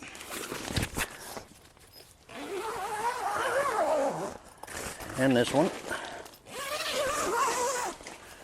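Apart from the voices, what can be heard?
zipping up tent side window zippers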